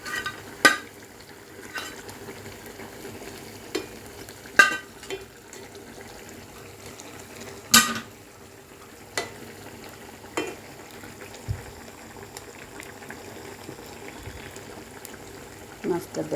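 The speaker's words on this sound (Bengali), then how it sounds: "তরকারিটা ভালোভাবে ফুটে গেছে, এতে মাছগুলা দিয়ে দেব।" Fish pieces go into a simmering vegetable curry of helencha greens and pangas fish in a pan, bringing soft bubbling and sizzling with scattered sharp clinks and splashes, and a voice talking intermittently.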